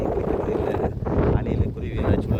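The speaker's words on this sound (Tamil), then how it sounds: "காற்று தான் பயங்கரமாக அடிச்சிட்ருக்கு" Strong wind gusting at a borewell site in Devarajapattinam near Dharapuram, where a 6 HP Texmo pump motor is being installed. Loud, rough wind rumble buffets the microphone throughout, with a voice partly mixed in.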